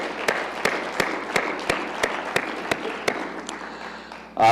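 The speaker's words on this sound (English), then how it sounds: "So really a big round of applause to everybody." A university audience applauds at a spring semester opening session: a steady wash of clapping with sharp, evenly spaced louder claps standing out, ending in a sudden loud burst.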